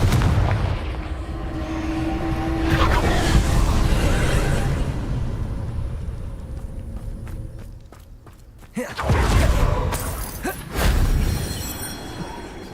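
A Confringo spell explosion in Hogwarts Legacy, with two loud, short blasts late in the clip after a stretch of rumbling, shuffling game ambience.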